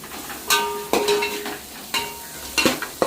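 A spoon scrapes and stirs chili powder through curry in a pan, giving several short, bright scraping strokes with pauses between them, close by and fairly clear, over a faint background with no talking.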